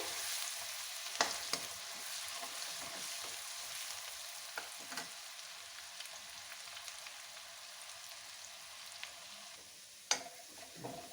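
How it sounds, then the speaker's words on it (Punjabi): Ginger and garlic sizzling steadily in hot oil in a pan for Punjabi dal makhani, with a continuous frying hiss and occasional clinks and pops from stirring; no one speaks. "ਅਦਰਕ ਲਸਣ ਨੂੰ ਹੁਣ ਹਲਕਾ ਬ੍ਰਾਊਨ ਹੋਣ ਤੱਕ ਪਕਾ ਲਾਂਗੇ"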